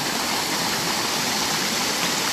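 A waterfall's steady, loud rushing roar fills the moment alone, unbroken and close, with no voices.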